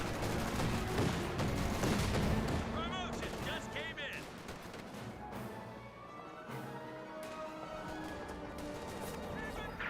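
MG42 machine gun fire in a Company of Heroes 2 battle, mixed with explosions and crashes in a dense, continuous combat din, with a voice talking over it throughout.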